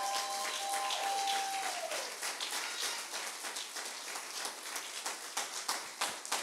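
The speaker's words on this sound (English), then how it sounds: "Let's stand to our feet, clap our hands, and give glory to God for the Pastor Rosa Perez." A worship congregation, standing, claps hands together in a dense, sustained patter of many palms, moderately loud and continuous, with a brief voice or tone fading out near the start.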